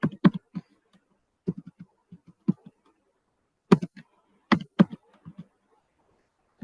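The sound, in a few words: computer keyboard typing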